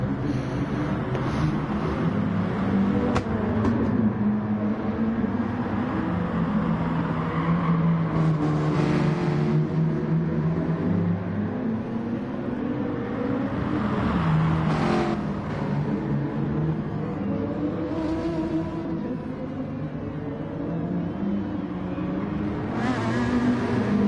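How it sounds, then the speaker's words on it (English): A McLaren 12C GT3 and a Peugeot RCZ race at Circuit de Barcelona-Catalunya, with engines droning and revving continuously, pitch rising and falling through gear changes as the cars run close together at steady loudness. "the McLaren is now on the back of that RCZ Peugeot driven by Kimster"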